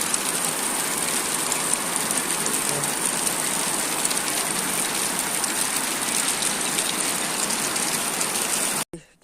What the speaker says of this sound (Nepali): पानी पनि परेको छ।